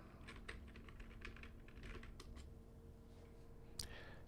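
Soft, rapid typing on a computer keyboard, a quiet run of key clicks ending with a single sharper tap, heard close over a faint hum.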